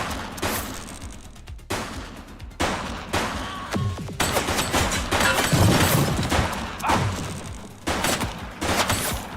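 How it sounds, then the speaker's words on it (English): Gunfire from the police video game The Precinct: irregular bursts of shots and loud impacts over a busy, clattering game soundscape, close and fairly dense throughout. "Shots fired!"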